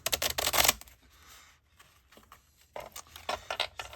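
Cardmaking prompt cards being shuffled by hand at a craft table, two bursts of close, crisp riffling and flapping with a quiet gap between them and no talk.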